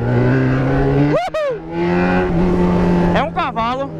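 A car revs and accelerates up a street during a busy car meet, engine tones climbing and falling in quick bursts, loud and close, with people shouting and talking over it.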